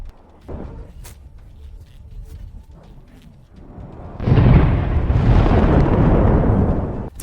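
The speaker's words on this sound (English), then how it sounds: "The Russian armored vehicles explode." Russian armored vehicles exploding in combat with a Ukrainian tank in the Ukraine war, a loud, sustained roaring blast that swells after a quieter stretch of scattered pops and rumble, heard from a moderate distance.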